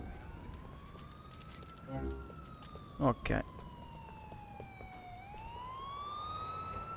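A police siren in GTA IV with the LCPD:FR mod wails in long rising and falling sweeps over traffic noise, broken by a couple of loud thumps, with a brief spoken word.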